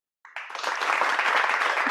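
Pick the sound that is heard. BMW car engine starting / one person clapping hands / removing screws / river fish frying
one person clapping hands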